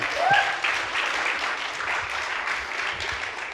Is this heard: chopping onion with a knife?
no